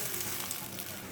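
Rice tipped into a hot pan sizzles and fries in a steady, close broadband hiss, brief and unbroken, with no voices.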